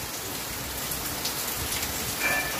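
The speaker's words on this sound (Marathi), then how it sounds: "पण पाऊस पडायला आलाय." Steady rain falls through the whole stretch, a dense even patter on surfaces near a roadside spot in Kolhapur, with a faint high electronic beep near the end and no talking.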